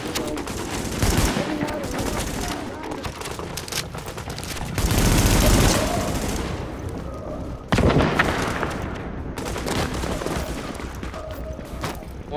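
Rifle fire in Tom Clancy's The Division Dark Zone beta, with dense rapid bursts of automatic shots and heavy booms rolling almost without pause, loud and close, with brief breaks between volleys.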